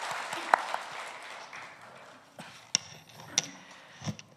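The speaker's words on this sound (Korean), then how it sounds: "하나님께 영광의 박수 올려드리겠습니다." Church congregation clapping in praise to God at a Sunday afternoon service, a brief wash of applause that quickly thins to a few scattered, separate claps in a quiet hall.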